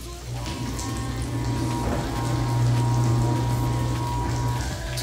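T-bone steak frying in butter in a pan, a steady, close hiss and crackle of sizzling fat with a low hum running underneath.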